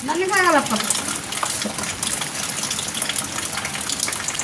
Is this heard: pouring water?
yes